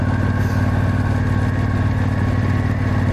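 On gravel backroads, a 1972 Moto Guzzi Eldorado motorcycle lugs along at very low revs while riding out of corners, a loud, steady, throbbing engine drone close to the microphone with constant wind roar and no talk.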